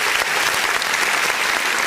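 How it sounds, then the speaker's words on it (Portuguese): A church congregation at a worship service claps loudly and steadily, a dense, unbroken burst of applause that fills the whole short stretch. "Vamos dar uma salva de palmas bem forte para o nosso Deus."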